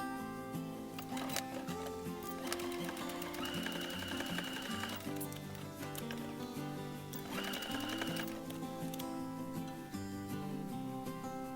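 A sewing machine stitches a cloth face mask, running in steady bursts with brief pauses where the fabric is turned, its mechanical whir continuous and close throughout.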